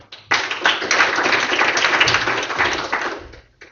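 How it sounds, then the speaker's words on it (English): An audience at a tech talk claps in a short, even burst of applause that starts abruptly, holds steady for about three seconds, then fades out, with no voices over it. "please give a round of applause for Ruben."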